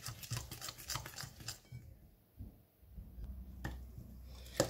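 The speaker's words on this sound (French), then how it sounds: "on va mélanger" Semolina being mixed by hand for kalb ellouz, a soft gritty stirring and rubbing with a few light scrapes against a bowl, close and fairly quiet, with no talking.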